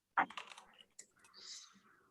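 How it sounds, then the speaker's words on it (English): A sticky Bluetooth computer keyboard gives a brief burst of quiet key clicks close to the mic, with a sharp first tap and a few softer presses. "my Bluetooth keyboard has a tendency to stick"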